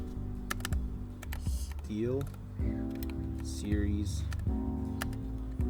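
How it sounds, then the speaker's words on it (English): Typing on a computer keyboard while searching for a SteelSeries scroll wheel, quick clicky keystrokes close by, mixed with a voice talking over them. "I'm still not good with typing on keyboard"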